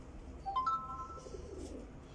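Racing pigeons from a Faisalabad pigeon-flying championship give a few short, soft coos and calls, faint against a low background hum with no talk.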